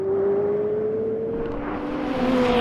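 A McLaren 720S and 675LT accelerate side by side in a rolling race, heard as a loud sustained engine whine that climbs steadily in pitch with wind rush beneath it.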